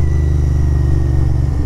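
A Royal Enfield Interceptor 650 motorcycle with a loud exhaust runs steadily close by, its deep, even engine rumble holding at a constant level with no speech over it.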